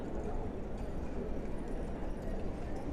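Horse hooves clip-clop in a steady rhythm as a horse pulls a coaching carriage at a horse guards show, with a low rumble of wheels and crowd underneath.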